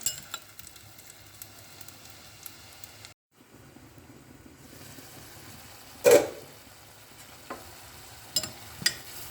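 Vegetables sauté in hot oil in a pan, giving a quiet, steady sizzle that drops out briefly. Several sharp utensil clinks and knocks follow, close by and with no talk.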